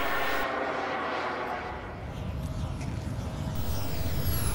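Jet-powered model aircraft with a turbine engine flying at Florida Jets 1998, a steady broadband roar that dips briefly then swells louder toward the end, with a faint high whine.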